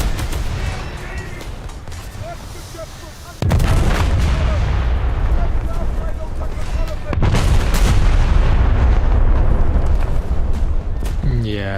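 Heavy 15-inch naval guns fire at a German dreadnought in a naval warfare game, with dense, rumbling cannon blasts and booming reports rolling continuously over a loud battle bed, and a fresh burst of fire hitting harder partway through.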